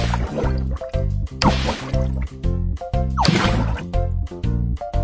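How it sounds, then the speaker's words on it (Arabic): Cartoonish water effects from a BabyBus filtering game play over a looping bouncy music track, with repeated splashy drips and squishy gurgles in short bursts. "الخطوة الثانية، قم بفلترة الأوساخ الموجودة في الماء."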